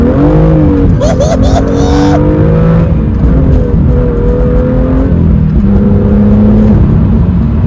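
A BMW M2 with the N55 engine and manual gearbox revs hard in second gear and pulls through repeated surges as it accelerates, loud and close, with the pitch climbing in waves.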